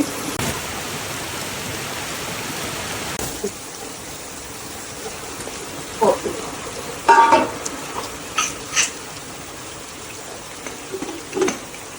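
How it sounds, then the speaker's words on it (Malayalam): Heavy rain pours in a constant, dense hiss, with a few faint knocks and clatters nearby. "മഴ അടിപൊളി മഴ"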